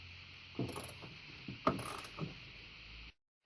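A ratchet wrench tightens the nut atop a truck's front suspension strut during a spacer lift install, giving a few short metallic clicking bursts close by over a steady background hum, ending abruptly.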